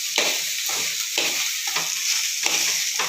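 Okra (ladies finger) sizzles steadily in hot oil in a pan and is stirred in a regular rhythm of scraping strokes, loud and close, with no talking.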